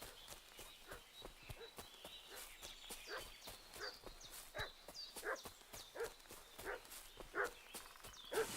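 Dog barking in the medieval game Kingdom Come Deliverance 2, a string of sharp barks at a moderate distance with hoof clip-clop and footsteps mixed in, alone without talk.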